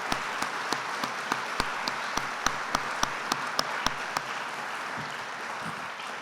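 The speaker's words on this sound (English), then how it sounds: "Big round of applause for these other outstanding leaders." An audience applauds campus leaders at a university chancellor's inauguration celebration, a steady patter of many hands at moderate level with sharp, regularly spaced claps standing out near the microphone for most of the stretch.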